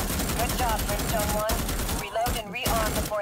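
Rapid gunfire from a weapon in the Starship Troopers video game, a loud continuous stream of shots with brief gaps and faint in-game sounds mixed in.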